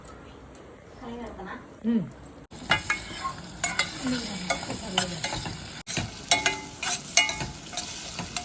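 Onion and potato curry cooking in a pan, a soft sizzle with spoon scrapes and taps, heard close alongside a person talking over it.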